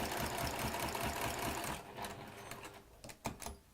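A home sewing machine stitches gentle curves on a quilt, its steady mechanical whir running continuously for nearly two seconds before breaking into shorter stop-start bursts with small clicks.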